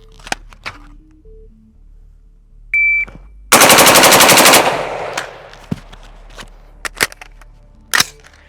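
Eight rapid gunshots from a firearm fitted with a Super Safety trigger rip out in one loud, tight burst at close range. Sparse sharp clicks and a brief electronic beep come before and after.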